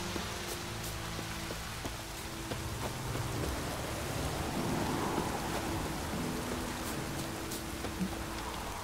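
Steady rain in the video game The Witcher 3, falling continuously as a dense, even hiss with faint patter and a low rumble underneath, with no voices over it.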